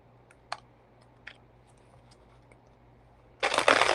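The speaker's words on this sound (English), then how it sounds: "Let me get my other decks shuffled up here." Tarot or oracle card decks being shuffled, a loud dense riffling burst near the end after a few faint isolated clicks and taps in a quiet room.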